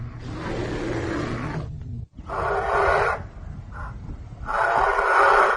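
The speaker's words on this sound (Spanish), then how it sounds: "La primera vocalización que el profesor Benson le coloca a Leon Williams es de un oso negro" A recorded black bear vocalization plays as three long, harsh roaring bursts separated by short gaps, loud and close, with a low rumbling hum in the background.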